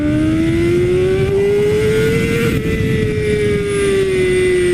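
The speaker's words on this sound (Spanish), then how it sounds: "no puedo creer que sea el escape de serie, Suena muy bien" BMW S1000RR sport motorcycle with its stock exhaust, revving close and loud as a steady high-pitched engine note that climbs slightly, then eases and holds, with heavy low rumble underneath throughout.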